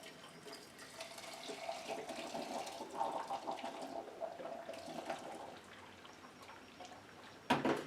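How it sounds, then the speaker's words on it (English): Homemade peppermint liqueur pours into a Magical Butter filter press as a steady liquid trickle and splash that runs for several seconds, then thins out and ends with a sharp clack. "Now it's just a matter of pouring it in here."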